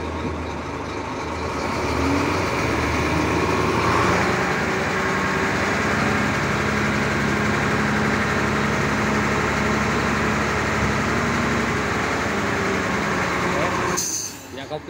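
FAW FD340DT dump truck engine holding a steady, loud diesel drone as the PTO drives the hydraulic lift to raise the bed, cutting off abruptly near the end.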